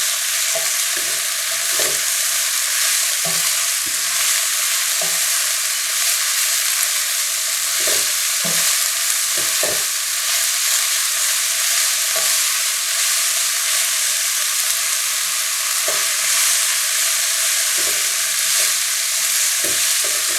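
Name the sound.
shimeji mushrooms frying and being stirred in a hot pan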